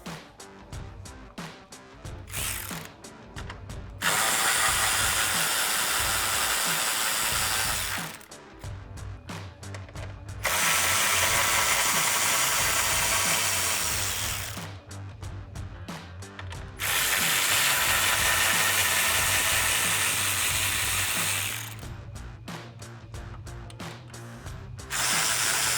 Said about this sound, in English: So I'll use my 10mm socket on a ratchet and pull those out.